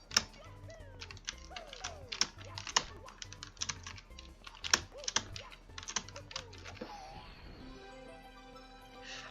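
Computer keyboard keys clatter in fast, irregular bursts during a speedrun of the Super Mario 74 ROM hack, close-up clicking mixed with game sounds and music underneath.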